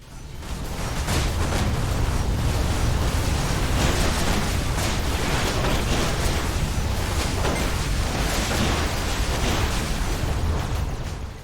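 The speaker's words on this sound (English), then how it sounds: "The various sounds of gunfire, shield impacts and such can make things hectic" Everspace space combat fills the air with dense, continuous bursts of gunfire and booming shield impacts, loud and hectic with no letup and no speech.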